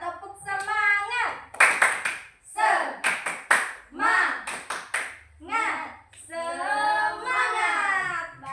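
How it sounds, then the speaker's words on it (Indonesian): Children in an Indonesian classroom doing a rhythmic spirit clap, sharp clusters of hand claps in patterned bursts alternating with their chanting voices, close and lively. "Tepuk semangat."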